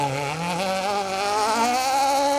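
Rally car, likely an Escort, passing on the final stage of the 2025 RAC Rally, its engine note sweeping upward as it goes by close and loud, held steady for a couple of seconds.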